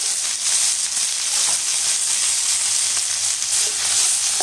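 Chopped carrot, brinjal and okra frying in oil in a pan for sambar, giving a loud, dense, continuous sizzle with faint stirring rustles, close up and without talk.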